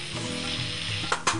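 Onions and salt sizzle in a frying pan for a meat samosa filling, a steady close hiss throughout, with a few sharper stirring clatters near the end.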